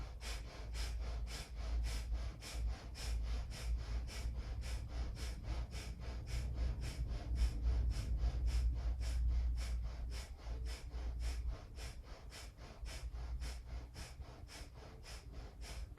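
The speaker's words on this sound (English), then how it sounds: "And then hold and add breath of fire." Rapid breath of fire breathing exercise during a kundalini-style yoga practice, a steady run of quick, forceful nasal exhalations in even rhythm lasting throughout, close and clear with a low hum beneath and no talking.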